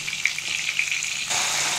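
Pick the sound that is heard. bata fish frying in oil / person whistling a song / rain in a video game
bata fish frying in oil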